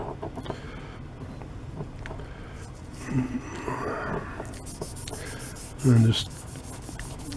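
A serrated kitchen knife scoured with a 3M Scotch pad and Bon Ami cleanser, giving a steady close rubbing and scraping under a brief spoken phrase, with a louder scrub near the end.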